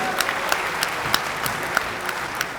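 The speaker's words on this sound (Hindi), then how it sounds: "एक बार जोरदार तालियां आप लोग बजा दीजिए" An audience at a political rally in Uttar Pradesh claps together in a dense, steady wash of applause, loud and sustained from start to finish.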